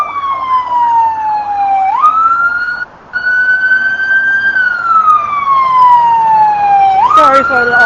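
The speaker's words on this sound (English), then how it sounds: "the water truck is turning to our direction right now" A water cannon truck at a Hong Kong street protest sounds its siren as it turns and approaches, a loud wailing tone that rises and falls twice with a brief gap, over steady street noise.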